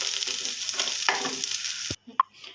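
Coconut pieces sautéed in a pan for a thuthuvalai chutney give a steady close sizzle with stirring scrapes, then cut off abruptly, leaving a few faint clinks and rustles.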